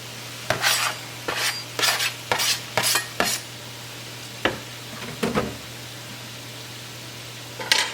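Chopped green onions and dill stirred into a pot of creamed potatoes, giving a run of close spoon scrapes and clinks in quick bursts over a low steady hum, then a few sparser stirs.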